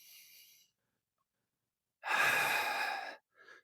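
Audible breathing during a Pilates exercise: a faint breath, then silence, then one long, close, airy breath lasting about a second, followed by a short softer exhale.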